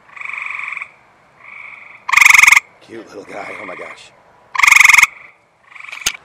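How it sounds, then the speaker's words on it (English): Loud, close eastern gray tree frog trills come in short bursts at night, two especially strong ones, with a person speaking softly between calls. "because of the chirping, yep, we're dealing with the eastern gray tree frog"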